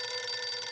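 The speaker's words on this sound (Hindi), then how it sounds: "फोन की घंटी बजी" A telephone bell rings in a short, bright, continuous burst of about a second, close and clear with no talk.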